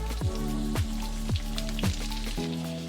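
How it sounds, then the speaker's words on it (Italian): Pieces of Sicilian long zucchini drop into a pan of hot oil and garlic, giving repeated soft plops at a steady pace over a constant sizzle, close and fairly loud, with no talking. "l'aglio ha preso colore, adesso ci andiamo a mettere le nostre zucchine"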